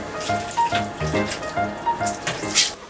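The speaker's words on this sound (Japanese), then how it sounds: "じゃあちょっとこれお湯入れるか" Hot water pours from a kettle or tap into a sink or pot while fish is prepared in a home kitchen, a steady splashing stream with gurgling pulses and brief hissing bursts.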